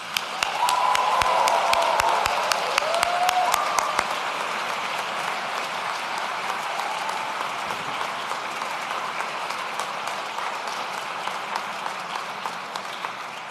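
Graduation ceremony audience at a school breaking into loud, sustained applause, dense clapping strongest for the first few seconds, then settling into a steady softer ovation with a few cheers carrying over it.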